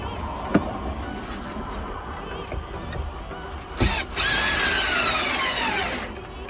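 A power drill bores pre-drill holes in wood while a sink cabinet goes into a 2022 Ford Transit crew van, with a few short bumps first and then a loud, close whine that climbs and then slows for about two seconds.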